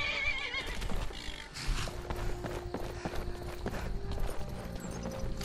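A horse in Skyrim whinnies and snorts near and loud, its clip-clop hooves moving over steady game ambience with intermittent rustling and clatter.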